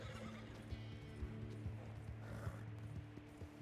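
A horse in the video game Red Dead Online whinnies faintly over a steady background hum, with light clip-clop hoofbeats ticking along underneath.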